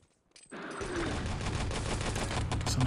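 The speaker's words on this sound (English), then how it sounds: "It's a nice artillery." An artillery strike in the Enemy Territory video game: after a brief near-silence, a rapid barrage of dense, crackling bursts sets in and rolls on continuously and fairly loudly to the end.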